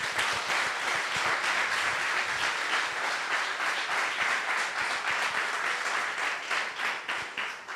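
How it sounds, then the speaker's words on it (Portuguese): Congregation applauding during a church celebration service, steady loud clapping from many hands, continuous and close, lasting the whole stretch. "Pode aplaudir o Senhor."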